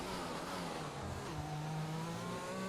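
An F1 2020 race car brakes hard into a corner at the Abu Dhabi circuit: a loud, steady engine drone with falling and shifting whine tones throughout, and no voices.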